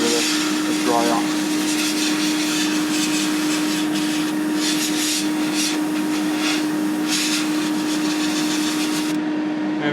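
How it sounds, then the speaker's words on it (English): An airbrush sprays Vallejo grey primer onto an Airfix 1/48 Messerschmitt Bf 109E model kit, giving a steady, loud, close hiss of air that runs unbroken throughout with a constant faint whine beneath it. "Keep the airbrush moving, flowing nicely."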